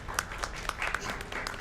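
A few people clap sparsely and quietly after a boss kill during a Dark Souls charity stream, scattered individual claps at uneven intervals over low background noise.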